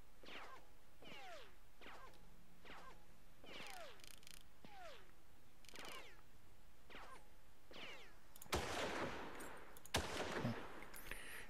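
Gunfire in the Far Cry video game: a string of sharp, evenly spaced shots with whooshing tails, followed by two louder, denser bursts near the end, all without talk.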